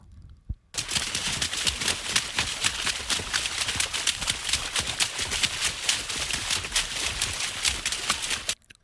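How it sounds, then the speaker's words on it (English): Rapid splashy footsteps slap through a water puddle, a dense stream of wet crackling impacts that continues steadily, loud and close. "a completely different sound of people walking in a puddle of water"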